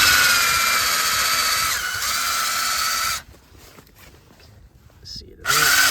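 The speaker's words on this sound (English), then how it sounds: "So I'm just gonna send this drill down." A power drill bores steadily through frozen lake ice, loud and close with a dense whine, then cuts out abruptly partway through, leaving quiet outdoor air before the motor briefly kicks back in.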